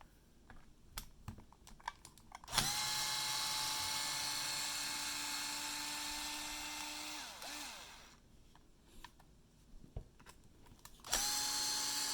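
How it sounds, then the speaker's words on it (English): Electric screwdriver backing out screws on an Arrma Kraton 6S RC car, one long steady high whine of about five seconds and a second burst starting near the end, close and loud, with small clicks and handling noises between them. "I'm going to remove the 4 screws just so you guys see it clearly"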